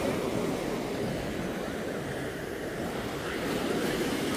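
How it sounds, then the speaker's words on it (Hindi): Strong sea waves break on a beach in Spain, a loud, continuous roar of surf with steady wash and wind noise throughout, no voices. "लहरें बहुत तेज़ हैं"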